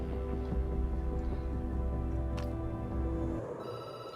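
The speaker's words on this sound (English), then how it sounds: "The phone rings and you jump." A telephone rings steadily in the Night Call video game, a sustained electronic ring over a low hum that cuts off near the end, with no voices.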